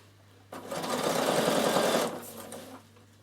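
A Bernina sewing machine edge stitching laminated cotton for a beach bag runs in one steady, close whirring burst of about two seconds, with quiet room tone before and after.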